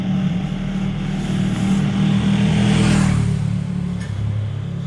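A Mazda Miata engine revs up and holds a rising, throaty drone, fairly close, then eases off slightly toward the end.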